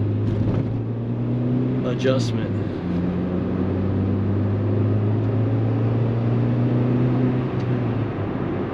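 A 1998 Acura Integra GS with a B18B1 engine and freshly adjusted valves drones steadily while driving, a low continuous engine hum with rising and falling tones under brief talk.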